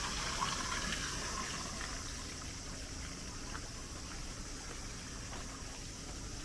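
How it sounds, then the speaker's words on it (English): Water from an artificial waterfall in the Japanese garden of a hot spring inn rushes continuously, a steady, even splashing roar with no voices. "kind of like an artificial waterfall."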